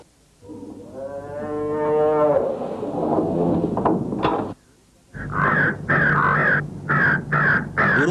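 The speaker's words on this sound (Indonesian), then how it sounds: "Burung gagak itu datang dan mematuk di bagian perut." A crow caws repeatedly, close and loud, in harsh bursts after a long drawn-out lowing call, with a brief silent gap before the rapid run of caws.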